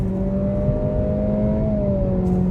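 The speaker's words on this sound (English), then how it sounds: "I love how this turbo engine also has like a second life after about" Turbocharged Honda engine in a 2023 Acura Integra A-Spec Tech with CVT, heard from the cabin as a steady, rising engine drone and whir during acceleration, continuous with no talking.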